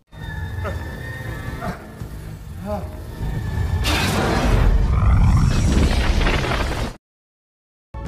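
A loud, rumbling LPG gas cylinder explosion bursts out and roars on for several seconds over a busy background, then cuts off abruptly.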